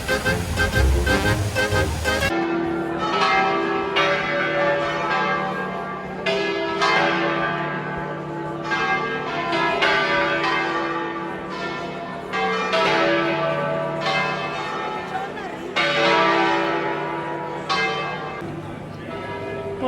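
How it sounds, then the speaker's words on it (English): Church bells in Genoa, Italy, among buildings from the 1600s, peal loudly and continuously, with overlapping strokes ringing out in an irregular cascade over faint street noise. "just listening to those bells"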